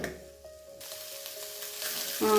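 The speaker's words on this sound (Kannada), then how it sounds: "ಗೋಬಿ ಆ್ಯಡ್ ಮಾಡ್ಕೊಂಡು ಚೆನ್ನಾಗಿ ಫ್ರೈ ಮಾಡ್ಕೊಳ್ಳಿ" Cauliflower (gobi) for gobi manchurian fries in tomato sauce in a pan, a steady close sizzle rising after a quiet start and swelling louder near the end.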